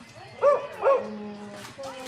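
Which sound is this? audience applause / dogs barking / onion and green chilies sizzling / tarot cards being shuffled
dogs barking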